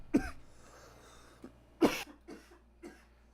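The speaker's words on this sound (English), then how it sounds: "just cough it on out" A person coughs, one sharp cough followed by a heavier one and a few weaker hacking coughs, close and clear against a quiet background.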